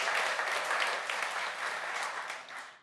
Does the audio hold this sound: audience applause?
yes